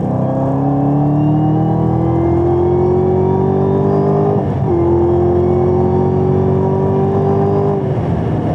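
A Corvette C8 or Camaro ZL1 sports car accelerates hard at full throttle in third gear from about 100 km/h. The loud engine note climbs steadily, with a brief dip at a gear change before it pulls up again.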